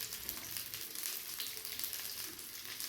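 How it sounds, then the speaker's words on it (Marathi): Onion and garlic roasting in a pan for a capsicum dish, giving a steady, soft, continuous sizzle and crackle throughout, with no voices. "इकडे आपला कांदासुद्धा भाजत आहे."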